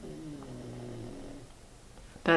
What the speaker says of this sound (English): snoring is my pug.